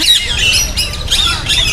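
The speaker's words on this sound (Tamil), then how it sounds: "இதோட சவுண்டு பார்த்தீங்கன்னா கீச் கீச்சுன்ற மாதிரி வித்தியாசமாக மற்ற கிளிகள்லேருந்து கொஞ்சம் சவுண்டு அதிகமாகவே இருக்கிற மாதிரி" An Alexandrine parakeet at Guindy Children's Park in Chennai gives loud, shrill squawks in quick repeated bursts, close by and heard alone.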